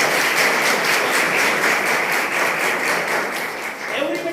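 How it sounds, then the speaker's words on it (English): An audience at a school celebration of Teacher's Day and Guru Purnima applauds steadily, a dense, sustained wash of clapping that carries on without pause, with a few voices faintly mixed in near the end. "Huge round of applause for this."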